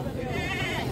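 Goats bleating at a crowded livestock market, a wavering bleat rising over steady crowd noise while people talk nearby.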